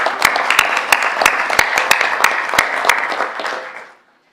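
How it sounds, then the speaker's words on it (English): A county meeting audience applauds a retiring employee, with dense, steady clapping from many hands close by that thins and fades out after about four seconds. "Let's give her a round of applause."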